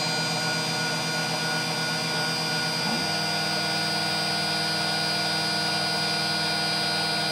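A precision drill/mill/engraver machine engraves lettering, its high steady motor whine running loud and continuous, with a small shift in tone about midway.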